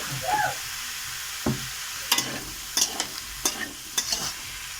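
Fish sautéed in a spice masala in a pan, a quiet sizzle under a few distinct scrapes and taps of a spatula spaced about a second apart, close and fairly faint.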